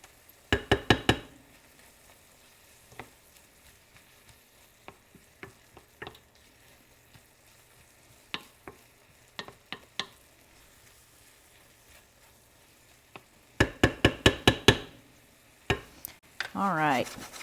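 Onions frying in butter in a skillet and being stirred, with soft sizzling under repeated scraping clicks and knocks of the utensil, louder bursts of stirring near the start and again toward the end.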